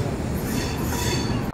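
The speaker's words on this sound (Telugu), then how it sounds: "అదిగోండి ఇంకో గూడ్స్ ట్రైన్ అయితే అరైవింగ్ అవుతుందండి ప్లాట్ఫామ్ నెంబర్ 4కి అయితే." A coal goods train of Bilaspur wagons pulls in to platform 4 at an Indian station with a brief, steady, loud rumble of wheels on rails.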